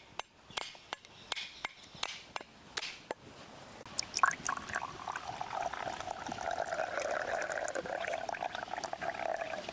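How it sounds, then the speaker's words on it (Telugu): A coconut is cracked open and its water poured out into a vessel: a series of sharp knocks at first, then a continuous trickling, gurgling pour that runs on to the end, fairly close and quiet. "కొబ్బరికాయలో వాటర్ పడేయకూడదండి. దీన్ని మనం పక్క పెట్టుకోవాలి వాటర్ తీసుకుని."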